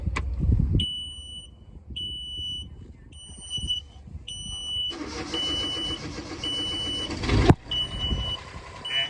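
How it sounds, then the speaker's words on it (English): A sailboat engine's low oil alarm sounds repeated high electronic beeps in an even rhythm, triggered by the just-drained oil, over a running Catalina 320 engine, which revs louder midway and briefly cuts out before the beeping resumes. "The low oil will beep for a minute because since we emptied it, it thinks it's empty."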